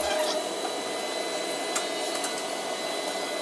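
A clothes dryer runs at a laundromat in Australia, giving a steady, even whirring drone with a constant hiss and a faint tonal hum throughout, without pauses or talk.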